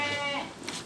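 A Garut crossbreed sheep gives a single short bleat, close and clear, a wavering nasal cry that fades quickly into faint background noise.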